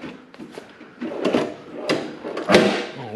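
A small drawer in the tool box of a Stockton roller seat being opened, a few scraping, rattling slides and knocks of metal and plastic, close up and moderately loud.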